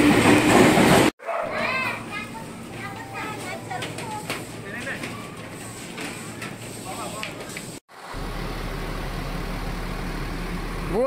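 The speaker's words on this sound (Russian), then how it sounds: "В Джакарте нет метро, но есть такой вот скоростной трамвай" High-speed tram rumble and screeching wheel squeals inside a busy carriage in Jakarta, with voices and children in the background; the scene cuts abruptly twice.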